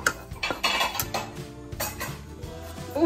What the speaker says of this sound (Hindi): अगला स्टेप होगा बेसन को भूनना